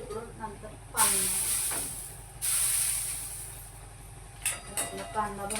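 Oil and then water are sprinkled onto a hot dosa griddle in a home kitchen, setting off two loud, bright sizzling hisses that slowly die down, followed by a few faint clatters.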